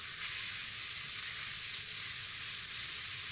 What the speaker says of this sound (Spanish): En cuanto empieza a dorarse, añadimos media cebolla picada, un poco de sal y removemos